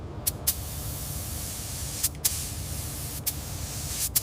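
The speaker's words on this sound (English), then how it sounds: "The first spray of shimmering metallic gold hits the fender" Steady soft hiss of metallic gold spray paint hitting a Rolls-Royce fender runs throughout, broken by a few brief sharp bursts, close and fairly quiet.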